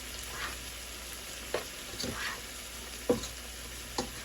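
Plant-based butter sizzles faintly in a pan, a low hiss broken by a few sharp clinks and scrapes of a utensil, quiet and close with no speech.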